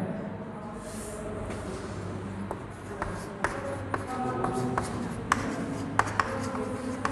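Writing on a board during an English grammar class, heard as light taps and scratchy strokes over a steady room background, with occasional sharper knocks as the marker meets the surface.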